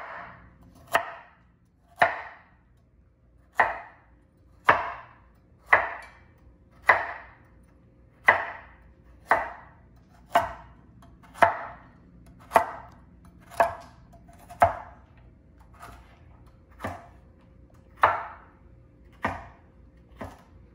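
A knife chops cabbage on a board for a cabbage salad, giving about seventeen sharp, crisp cuts at a steady, unhurried rhythm, close and clear with no talking.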